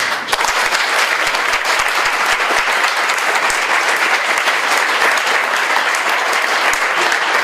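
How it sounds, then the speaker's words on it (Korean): A church congregation gives loud, dense applause of encouragement at a mission group's twentieth anniversary service, a full, steady roar of clapping from many hands with no letup. "우리 격려의 박수 한번"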